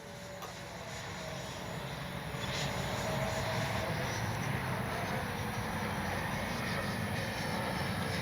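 An FMS Avanti S 70mm electric ducted-fan RC jet flies past, a continuous whooshing turbine-like whine that builds a little and then holds steady at a distance, with no voices.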